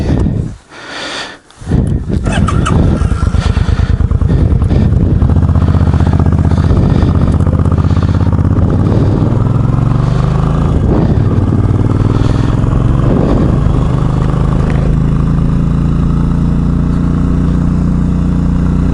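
Motorcycle without a windshield ridden around town, its engine loud and close with a steady rumbling drone after a brief start, rising and falling slightly with throttle over a long continuous stretch.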